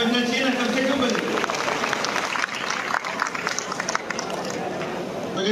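Crowd applause at an outdoor public ceremony in Khargone district for development works, a steady wash of clapping from many hands that holds for several seconds, with a few louder bursts and people talking faintly underneath.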